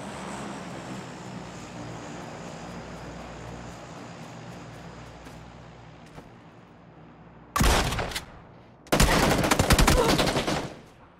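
Gunfire in the PUBG battle royale video game: two sharp, loud bursts of rapid shots crack out late in the clip after a stretch of steady low engine-like drone.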